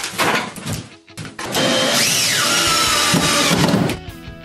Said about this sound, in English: To finish, Jude tightens all the wall fasteners